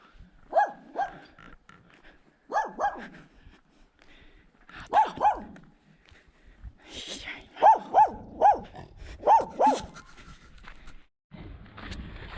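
A dog barks from behind a fenced old house in the Serbian countryside in the evening, giving clusters of two or three sharp barks repeated over several seconds at a moderate distance.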